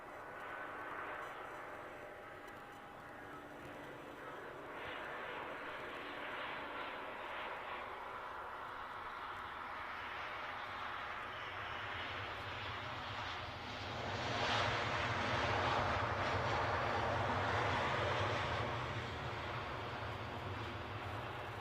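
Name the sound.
plane landing at Edinburgh airport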